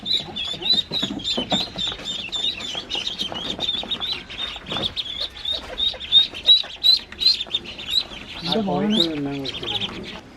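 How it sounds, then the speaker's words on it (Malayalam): Ducklings peep steadily while being moved into a new cage, a continuous high chorus of thin chirps heard up close. A person talks under it near the end. "അങ്ങനെ നമ്മൾ താറാവ് കുഞ്ഞുങ്ങളൊക്കെ ഇതായി കൂട്ടിലേക്ക് മാറ്റിക്കൊണ്ടിരിക്കുകയാണ്"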